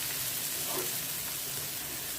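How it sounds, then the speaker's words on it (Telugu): Sliced onions and green chillies sizzle in oil in a pan, a soft, even frying hiss with no break. "బాగా వేయించుకుందామండి."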